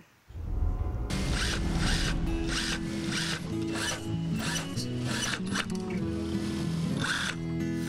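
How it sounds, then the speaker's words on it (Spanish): Sewing machine stitching festive costume dresses, a steady rapid mechanical whirring with rhythmic pulsing bursts that runs continuously and close, with a faint hum of machinery underneath. "La máquina de coser se ha convertido en la mejor amiga de Doña María"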